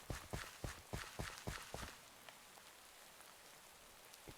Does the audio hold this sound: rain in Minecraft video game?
yes